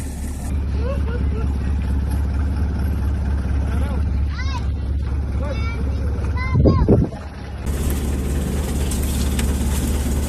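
A motorboat engine on a small boat in Quezon Province, Philippines, drones steadily up close with wind buffeting the microphone, briefly dropping and surging near the end, while people talk over it.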